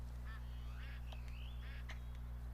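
Ducks call in the Duck Dynasty game on PS4, a few short honking quacks, faint over a steady low hum.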